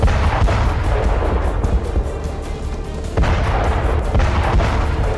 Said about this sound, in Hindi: जैसे ही थर्मोबैरिक रॉकेट एक साथ धरती पर फटे, हवा में भूकंप आ गया।